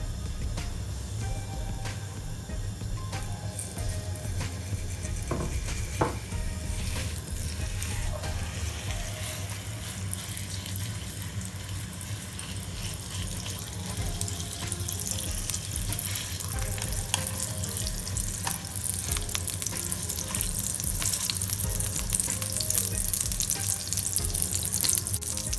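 Shrimp burger patties fry in oil in a pan, giving a steady close sizzle with scattered crackles and faint clinks over a low background hum throughout, no talk.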